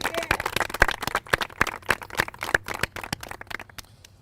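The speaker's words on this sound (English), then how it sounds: "I'd really like to just offer Camille Winnie a big warm round of applause, because this really wouldn't have happened" Scattered hand claps from a small press-conference audience, a handful of distinct, uneven claps over about four seconds that thin out toward the end, fairly close and moderately loud.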